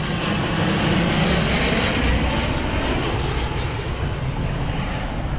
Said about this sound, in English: you can see how close the airplanes really are to the ground here